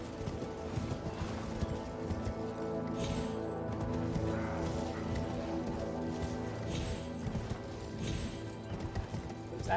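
Mule hooves clip-clop steadily in a video game, a continuous run of hoof beats over game music and ambience, with a brief whinny-like sound mixed in.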